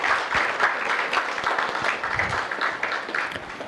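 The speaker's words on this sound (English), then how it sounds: "Let's give them a big round of applause" Sustained applause from a conference audience honouring the participants, a dense wash of many hands clapping steadily throughout.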